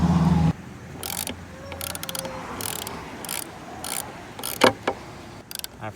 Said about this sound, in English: Now I'm just gonna screw these screws down so that they can't come out.